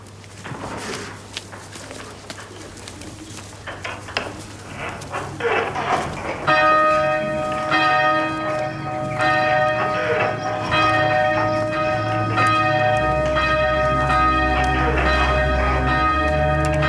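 A church bell begins ringing partway through and keeps on, loud tolling with rich ringing overtones; shuffling footsteps and scattered sounds come before it, and a dog is heard faintly.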